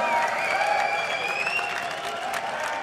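A crowd at an EU LCS League of Legends esports match applauds and cheers after an SK Gaming victory, a loud, dense burst of clapping that carries on steadily without a break.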